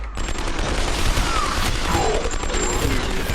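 A grenade blast and a rattling fusillade of gunfire in a video game trailer, loud and continuous throughout, with a faint voice partly buried in the combat din.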